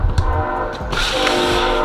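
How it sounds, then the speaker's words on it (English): Train passing nearby during an outdoor car parts unboxing, a loud rumbling rail drone with a brief horn-like tone that swells and brightens halfway through, no talk. "Sorry about the train in the background"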